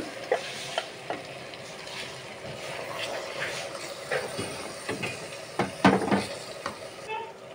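Tomato paste is stirred into beef biryani masala in a hot pan, a low sizzle with irregular spoon scrapes and clinks against the metal recurring at close range, with no talking.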